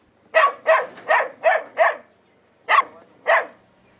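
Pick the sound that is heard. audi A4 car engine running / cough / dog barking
dog barking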